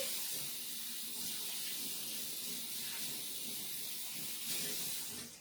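Tap water runs steadily into a blender, a soft continuous splashing hiss close by, rinsing it out with no voices.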